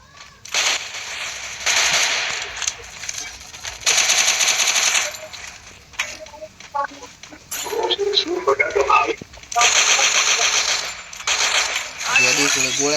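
Gunfire in the Free Fire video game comes in repeated loud automatic bursts with short pauses between them, while players talk over the shooting.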